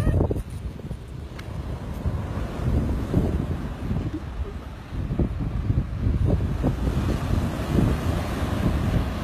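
Sea off the coast of Turkey, with waves washing and breaking under constant wind buffeting the microphone, a rough, continuous roar with no clear speech.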